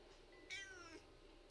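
A cartoon cat meows once in Stardew Valley, a bright, wavering call rising over soft game background music. It is followed by a brief low thump.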